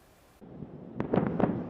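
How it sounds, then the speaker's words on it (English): After a quiet moment, several sharp blasts from overnight strikes in Gaza crack out in quick succession, booming and somewhat distant. "Explosions once again rang out overnight in Gaza"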